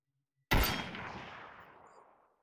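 A single loud gunshot from a VR shooting range game goes off abruptly and sharply, then a long reverberant tail fades out over about two seconds, with no talking.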